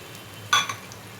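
Ginger and garlic paste drops into hot oil, giving one short, bright sizzle that quickly tapers off against a quiet kitchen background.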